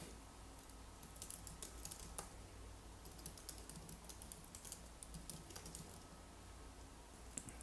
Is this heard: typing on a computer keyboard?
yes